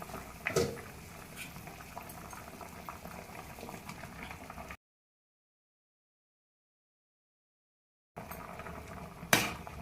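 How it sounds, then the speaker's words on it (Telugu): Sambar bubbles and burbles at a gentle boil in a pot, a soft liquid simmer with an occasional louder pop. A stretch of complete silence splits it in the middle before the bubbling resumes. "సాంబార్ మరుగుతుంది."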